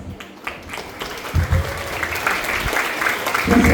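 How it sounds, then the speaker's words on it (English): Applause rises from a school gathering in the preparatory section to welcome the head teacher, a busy patter of many hands that builds over several seconds and is mixed with crowd voices. "Let's welcome our head teacher with a big round of applause."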